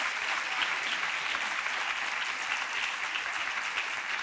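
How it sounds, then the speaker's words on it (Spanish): A church congregation applauds together during a sermon, with dense, even clapping that fills the room at a steady level from start to finish. "Dale un aplauso al Señor."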